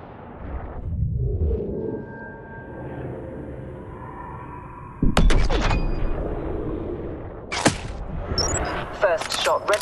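Sharp sniper rifle shot in the mobile shooting game Hitman Sniper, a sudden loud crack at mid-clip after a quiet tonal lead-in, followed by further bursts of impact and mechanical clatter.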